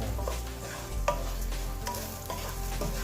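Mexican rice sautés with added salt and cumin, a constant close sizzle broken by rhythmic scraping strokes of a spoon stirring through the pan.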